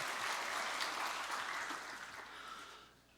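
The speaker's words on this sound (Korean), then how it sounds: "크게 영광의 박수." A church congregation at a Korean Sunday worship service claps together in a dense, steady burst of applause that tapers off after about three seconds.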